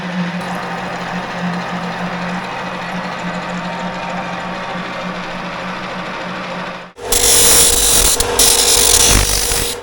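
A power drill bores holes for homemade front loader lock bolts. There is a steady whirring run for several seconds, then a sudden louder, harsher grinding burst near the end, with no talking.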